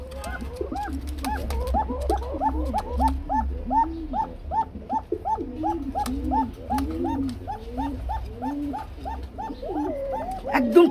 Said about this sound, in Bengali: বন্ধুরা যারা চিকুন ডাক শুনতে চান বাসিরাজের মধ্যে চিকুন